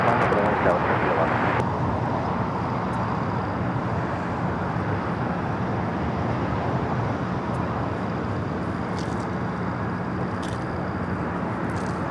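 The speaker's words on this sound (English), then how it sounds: "Next arrival on 24 right, United Airlines 1363 coming in from Chicago on the 777-200." United Airlines Boeing 777-200 arriving at LAX from Chicago, a broad steady jet roar that holds loud throughout, with a voice speaking over it.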